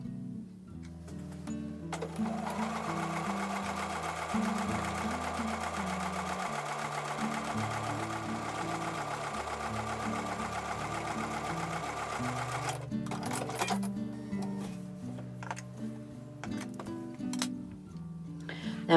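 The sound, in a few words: sewing machine sewing a quarter-inch seam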